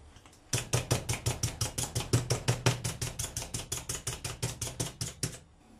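Breaded pork chops pounded flat before cooking, a steady run of about thirty sharp, evenly spaced thuds, close and clear, with no talk.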